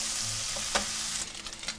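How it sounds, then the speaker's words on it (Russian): Bacon fries in a dry pan with no oil, a loud close sizzle and crackle with a sharp pop near the middle and softer stirring sounds toward the end. "Никакого масла тут не нужно, потому что бекон сам по себе жирный. Просто его обжариваем."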